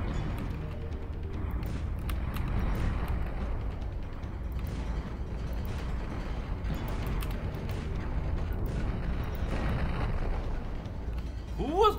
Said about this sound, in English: Launching missiles at me.